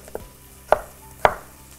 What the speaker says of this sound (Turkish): Şunları da uzun uzun doğradıktan sonra